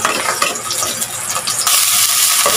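Onions sautéing in hot oil in a pan, a steady close sizzle with scraping stirring, getting louder partway through as the frying intensifies.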